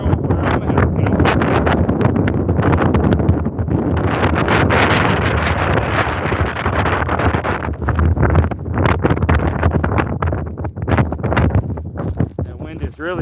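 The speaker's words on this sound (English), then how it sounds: "That wind is really strong." Strong outdoor wind buffeting a microphone during a cave-exploring outing: a loud, continuous rumbling roar that stays steady for the whole stretch and masks other sound.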